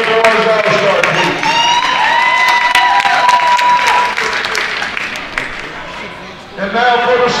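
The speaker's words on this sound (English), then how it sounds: "Round of applause for the Junior Boys All-Star team." Crowd at a high school all-star basketball event applauds and cheers for the junior boys all-star team, loud and sustained, with an arena horn or buzzer tone and voices mixed in.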